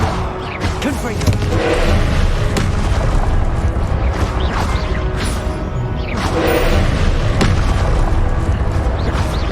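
Repeated Confringo blasting-spell explosions in Hogwarts Legacy during a fight, loud booming bursts over a constant roar of combat effects, with a voice talking throughout.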